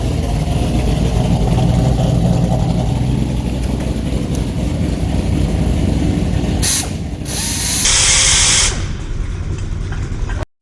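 A metal lathe machines a part in a shop, giving a loud, continuous mechanical whir and grind that shifts briefly near the end before cutting off abruptly.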